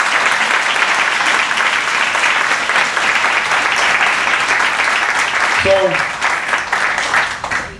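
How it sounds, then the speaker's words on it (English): Sustained audience applause at a retirement celebration fills the room at steady loudness, a dense wash of clapping that fades slightly near the end, with a brief spoken word cutting in. "Please give all of these people a big round of applause."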